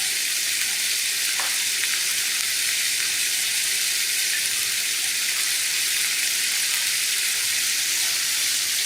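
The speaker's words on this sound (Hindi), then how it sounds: "लहसुन डाल देती हूँ, फ्राई हो जाएगा साथ ही" Finely chopped garlic frying in a pan for chicken lasagna, a loud, continuous bright sizzle held steady throughout with faint stirring, close up and without talk.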